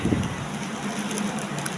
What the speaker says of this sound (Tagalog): ang lakas po ng ulan kaya napakaingay